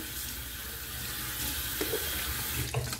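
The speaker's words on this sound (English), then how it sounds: "we're going to do a cold water rinse here" Tap water runs continuously into a sink for a cold rinse after a straight-razor shave, a steady close splashing hiss with a few small knocks near the end.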